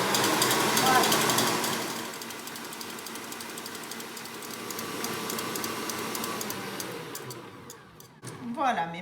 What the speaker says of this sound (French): Si vous avez un petit robot avec des fouets, vous tournez en même temps que vous battez les blancs en neige